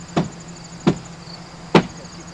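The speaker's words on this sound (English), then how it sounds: "You gotta be hammering and kicking at the same time." Three sharp, evenly spaced hammer blows ring out on timber during construction of an observatory, each a loud close strike with a short decay over a faint steady hum, no talking.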